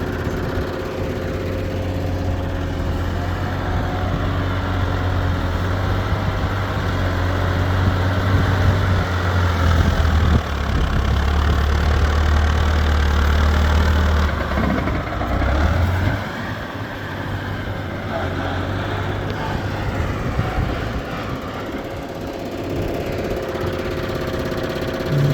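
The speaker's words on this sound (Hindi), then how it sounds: "इसीलिए इन भाई साहब ने ये ट्रैक्टर ऑफ नहीं किया," A tractor engine idles steadily nearby, a low chugging drone that swells slightly midway then settles, with no talking.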